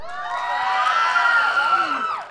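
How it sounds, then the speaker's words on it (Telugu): A college audience at a film promotion event cheering and whooping loudly together, a sustained crowd roar of shouts that swells and then fades near the end. "ఒక్కసారి గట్టిగా చప్పట్లు."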